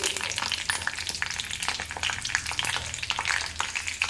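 Cumin seeds, curry leaves and a dried red chili fry in hot oil, giving a loud, continuous crackling sizzle broken by sharp pops and occasional stirring scrapes, with no talking.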